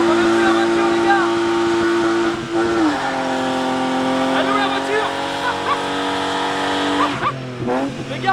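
An 1100 hp BMW M3 drifting at speed, engine roaring loud and steady with a long sustained tire squeal that shifts pitch midway, while someone talks over it.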